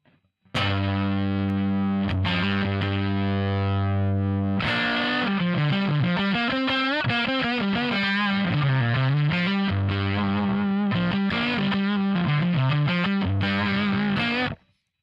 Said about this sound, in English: That does sound like a fuzz, but it sounds like a really cool top secret fuzz.